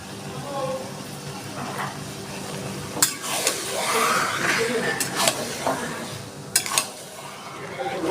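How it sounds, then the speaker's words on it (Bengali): A spoon scrapes and stirs an apple-jujube pickle seasoned with turmeric and salt in a pan, with soft sizzling and repeated clinks against the metal as a voice talks throughout. "আমি আস্তে আস্তে এরকম নাড়াচাড়া করে একটু শুকনো শুকনো করে নিয়েছি"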